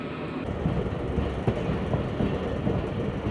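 Shalimar Express coaches rolling in on the branch line at an Agra station, a steady loud rumble of wheels and rattling cars with faint clicks, continuous and close, no voices.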